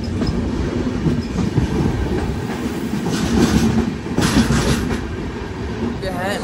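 The Paschim Express train running on rails near Mathura Junction, a steady, loud rumble with clickety-clack wheel beats and brief screeches, up close, with someone speaking over it.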